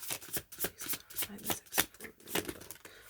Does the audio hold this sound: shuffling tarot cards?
yes